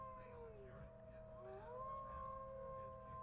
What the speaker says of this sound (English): And we see this white wolf. He's howling.